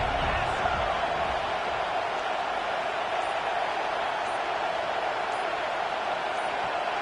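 A crowd at a football video game roars steadily for the defense, a constant, even wash of cheering with no breaks or peaks.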